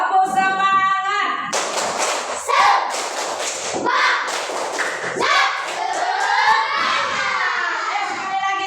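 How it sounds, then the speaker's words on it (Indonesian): A group of children does the tepuk semangat spirit clap chant, rhythmic clapping mixed with loud shouted chanting and thumps, like a lively classroom or schoolyard crowd close by. "Tepuk semangat."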